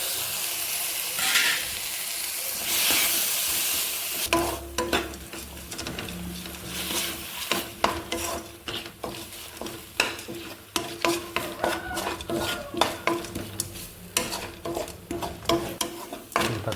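Chopped tomatoes, onion and green chili sauté in a pan for tomato chutney, a steady sizzle with a busy run of scraping and stirring clatter after the first few seconds, close and with no talk.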